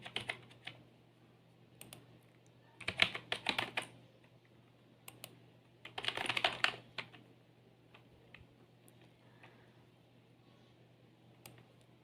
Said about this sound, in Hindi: यहाँ पे किसी भी मेडिसिन का नेम टाइप कर देते हैं, जैसे कुछ भी लिख देते हैं ABCD